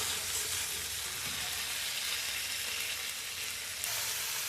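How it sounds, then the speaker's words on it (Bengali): Mustard paste sizzles in hot mustard oil in a pan, a steady, soft crackling fry that runs unbroken and fairly quiet, with no talk. "এবার এটা এখনই ভাজা হবে মশলাটা"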